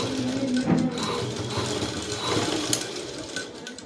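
A sewing machine runs steadily while top stitching a dress top, its mechanical whir and needle chatter continuing evenly at close range with no speech.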